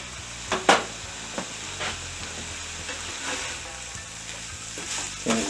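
Vegetables for a cheesesteak sizzle and fry in a pan, with a steady close hiss broken by a few sharp clinks and scrapes as they are stirred.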